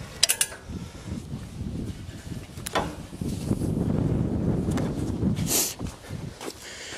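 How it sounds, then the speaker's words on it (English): A 1918 John Deere Hoover potato planter mechanism turns slowly by hand, giving off faint creaking, rattling and clunking, with a few sharp clicks and light wind noise. Nobody speaks over it. "As you turn the wheel, you see it'll pick the potato up."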